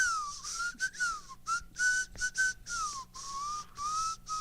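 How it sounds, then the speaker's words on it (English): A person whistles a wavering melody alone, with short phrases rising and falling and brief pauses between them, moderately close and clear. "You'll just be whistling all the time."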